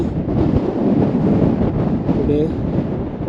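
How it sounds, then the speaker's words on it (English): Strong wind blowing in the mountains of Nanda Devi National Park, buffeting the microphone with a loud, continuous low roar and rumble, close and unbroken, with a voice speaking faintly under it. "So it's very windy"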